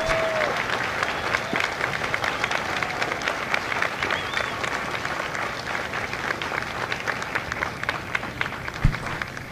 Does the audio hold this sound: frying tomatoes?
no